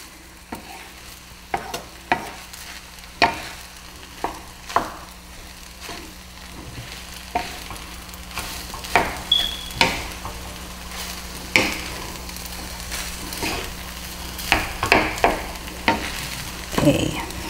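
Pork fried rice with soy sauce is stirred in a pan, with repeated sharp scrapes and clanks of the spatula over a constant soft sizzle, close and fairly loud, with no talk.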